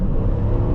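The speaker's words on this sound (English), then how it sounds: "I love this acceleration." A 2005 Chrysler 300C with the 5.7L Hemi V8, tune and aftermarket exhaust, accelerating with a deep, steady, loud low rumble heard from inside the car over a brief moment.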